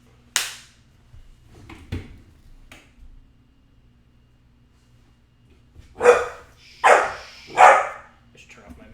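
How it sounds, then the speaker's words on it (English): A pet dog named Lily lets out a few sharp barks in a room, about three loud, spaced yelps near the end after a couple of softer taps and sounds earlier, heard up close with no talking over them. "I should turn off my mic when she starts barking, because it's probably very loud when she's in the room"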